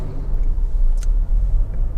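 Interior drone of a Toyota Auris 1.6 V-Matic petrol engine on the road, a steady low rumble with road noise and no talking.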